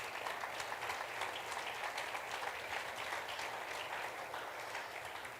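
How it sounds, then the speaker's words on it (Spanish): Church congregation applauding together in a steady, dense wash of clapping that holds evenly throughout at moderate volume, with no voices over it. "Vamos a darle un aplauso a Jesús."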